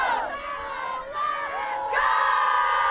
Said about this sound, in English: getting ready in their huddle for their team cheer